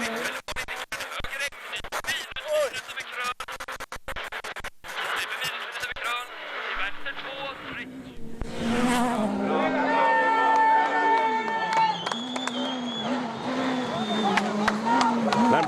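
Skoda rally cars race through a stage of the 2009 Acropolis Rally, with gravel scrabble and engine revs rising and falling under continuous commentary, and a louder engine roar building toward the end.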